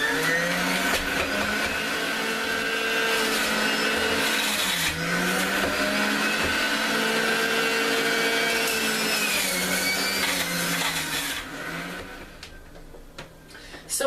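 A blender whirs steadily for most of the stretch, loud and close. It holds a pitched, slightly wavering motor drone as it blends a smoothie of lemon and celery tops, then tapers off near the end.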